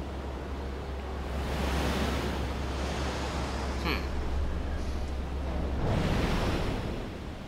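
Water rushing through a sluice in Resident Evil Revelations 2, a steady broad wash that swells and eases in waves, with a brief higher tone near the middle.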